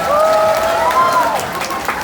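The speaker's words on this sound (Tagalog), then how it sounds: "Wala po bang palakpakan dyan?" Applause from a festival audience at the Hoyop-Hoyopan Festival 2025 in an evening crowd setting, a brief steady wash of clapping with tonal voices or whistles rising over it.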